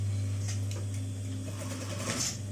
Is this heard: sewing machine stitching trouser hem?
yes